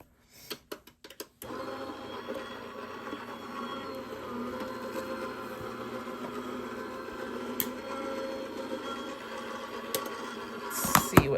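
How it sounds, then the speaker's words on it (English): Die cutting machine feeding paper through its rollers for a card craft project: a few sharp clicks at the start, then a steady, even mechanical hum that continues to the end, ending in a couple of clunks. "run this through my die cutting machine"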